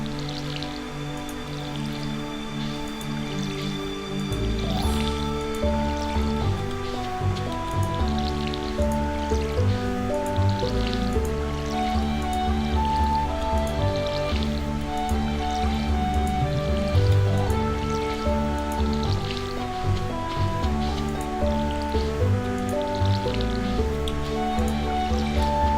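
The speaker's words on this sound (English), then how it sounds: "Alright, first we're going to water the parsnips" Watering can pouring onto parsnip crops in the Stardew Valley farming video game, soft repeated splashing and dripping effects over the game's steady background music, no talking.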